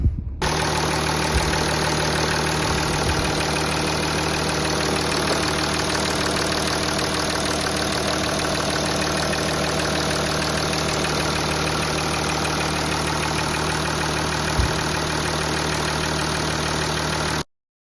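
A 2015 Audi A8 D4 engine idles steadily and loudly up close, a constant low rumble with a faint knocking rhythm that runs unchanged before cutting off.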